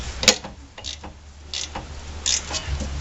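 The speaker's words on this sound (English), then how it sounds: "See if this ratchet wrench will work, since I got that broke loose now." A ratchet wrench clicks in short bursts while turning a bolt on the rear brakes of a 2002 Honda Accord, sounding close and sharp over a low background hum.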